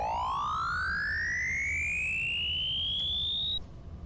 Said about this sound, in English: I do have one here currently that is going to create like an alien sound